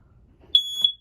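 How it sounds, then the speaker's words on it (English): One sharp, high-pitched electronic beep from a smoke detector overhead inside a 2019 Cherokee Wolf Pup travel trailer, close by and loud, after a brief soft rustle. "So smoke detector above our head here."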